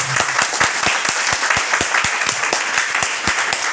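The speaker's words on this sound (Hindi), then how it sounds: "जो ये लेना चाहता है वो उतनी देर तालियां मार के दिखाएगा।" An audience claps steadily at a network marketing event, sharp individual claps standing out in a fairly even rhythm over a continuous bed of crowd applause for several seconds.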